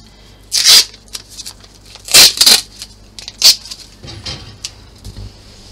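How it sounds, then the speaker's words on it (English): Strips of adhesive tape torn off and pressed onto embroidery stabiliser: a few sharp, crackly rips in quick bursts, close and fairly loud, separated by quieter rustling and handling. "We can put a bigger bit of tape over that."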